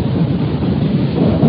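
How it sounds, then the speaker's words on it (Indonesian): Deep, continuous rumble of thunder rolling low and heavy, loud and unbroken for the whole moment, with no voices present. "Gemuruh petir sudah mulai terdengar."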